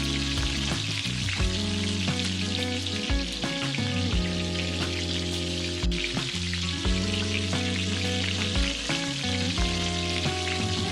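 Farali bhajia sizzle and crackle steadily in hot oil in a pan, a dense, loud, continuous frying sound with no voices.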